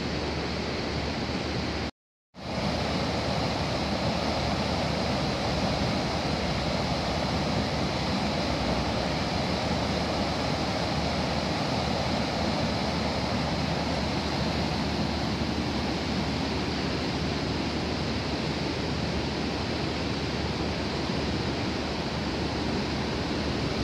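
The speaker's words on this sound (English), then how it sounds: "there's a teeny bit of flow of water coming over this weir" Steady broadband rush of the River Ogmore spilling over a weir by a recreation centre in Bridgend on a January day, a constant close hiss that briefly drops out, with no voices.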